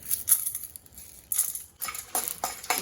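Chana dal frying in about half a ladle of oil in a pan, heard as a few bursts of metallic clinks and scraping from a spoon stirring against the pan, close up with short pauses between.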